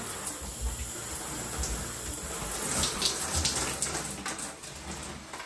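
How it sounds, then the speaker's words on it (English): Tap water runs steadily from a faucet at moderate volume while someone styles Type 4 natural hair with CÉCRED products, with light splashing and handling sounds scattered through the flow. "I'm gonna go in and add some more water."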